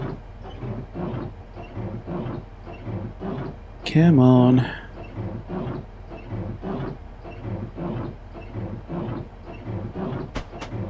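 A train in the Train Simulator game runs through a tunnel on the London to Faversham route, giving a steady rumbling drone with rhythmic wheel thumps, briefly covered by a louder tonal burst, while a voice talks over it.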